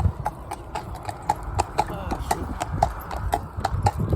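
Steady clip-clop of horse hooves on a hard road, close by and rhythmic, with a rumbling low background throughout.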